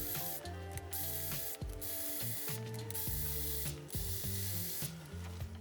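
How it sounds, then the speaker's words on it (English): Guitar strings are loosened at the tuners and removed, with repeated close, quiet ratcheting clicks and sliding, falling string twangs in an uneven rhythm. "Loosen and remove all your guitar strings."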